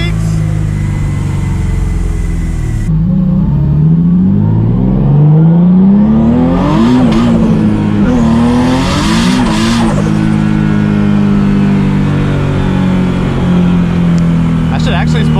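A 900 hp turbocharged Nissan 370Z accelerating hard with traction control off, its engine rising and falling through loud revs with turbo spool and some tire squeal, while people talk over it.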